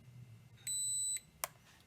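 A Holystone HS360S foldable GPS drone's ESCs emit a short startup tune: a couple of quiet tonal beeps, a brief held tone, then a sharp click, faint over low background hum.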